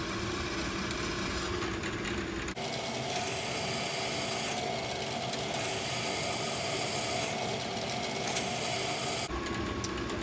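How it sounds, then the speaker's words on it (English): A VEX high strength steel shaft is slowly drilled through a 3D printed plastic jig, giving a continuous gritty grinding whine for most of the stretch, close and steady, with quieter motor hum at the start and end. "While drilling, you have to do it very slowly"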